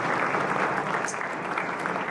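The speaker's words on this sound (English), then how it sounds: "Ladies and gentlemen, please help me cheer on Dr. Artisan Basu." Audience applause at a keynote event for an economics talk, steady and dense clapping from a large crowd filling the whole stretch without pause.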